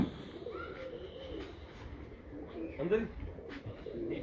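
Teddy pigeons in a breeder's loft give soft, low cooing at close range, with someone talking over and around the calls.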